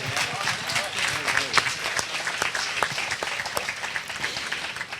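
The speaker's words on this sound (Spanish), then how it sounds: "Deja que aplaudan ahí ustedes." A studio audience applauds with dense, lively clapping at a flat-earth talk, sustained and close throughout, with some voices mixed in underneath.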